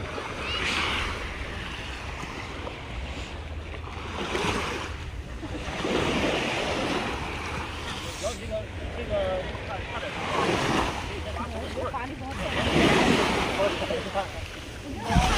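Ocean surf on Dubai Marina beach late at night, a steady rolling wash of waves swelling and easing under gusty wind buffeting the microphone, with faint voices mixed in.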